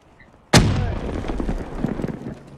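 A grenade explodes in Black Ops 3 after near silence: one sudden, loud, close blast with a long rumbling tail and scattered crackles as it decays.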